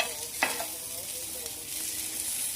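Small sole fish fry in a pan of oil, a steady hissing sizzle with occasional sharper crackles and pops, close and continuous, with no talking.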